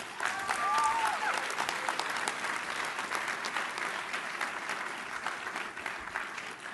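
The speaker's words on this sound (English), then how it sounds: "Can we get a bipartisan round of applause for Secretary Kennedy and the diverse group of medical and advocacy groups" A crowd at a food policy celebration event breaks into sustained applause, a dense wash of clapping that swells early and then gradually thins, with a few faint voices mixed in.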